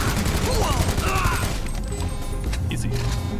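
Dense rapid gunfire in the video game GTA Online during a fight inside a submarine, a loud continuous barrage of overlapping shots filling the whole stretch, with voices partly buried beneath it.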